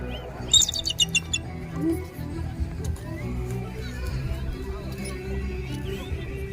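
Fish-eating birds with white heads and tails give a burst of rapid, high chirping calls, followed by scattered fainter calls over a steady low rumble and murmur of background sound.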